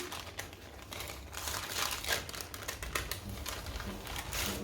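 Baking paper is peeled away from a warm sponge cake, giving soft, continuous crinkling and tearing rustles close by for several seconds.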